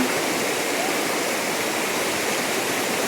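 Chilling Falls, a waterfall at Kuala Kubu, makes a steady broadband roar of rushing water from close by. The sound is loud and constant throughout.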